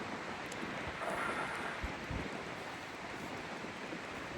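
Strong wind buffets the microphone beside a frozen mountain lake in the Selkirk Mountains, a steady broadband roar with a few harder gusts, loud and continuous with no voices.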